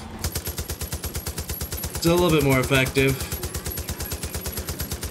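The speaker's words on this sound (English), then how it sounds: "Hey, I can always just shoot the truck itself." Rapid automatic gunfire in Far Cry 5, aimed at a truck, hammering in a steady stream of shots for the whole clip while a voice speaks over it partway through.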